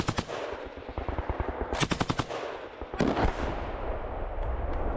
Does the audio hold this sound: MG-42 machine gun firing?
yes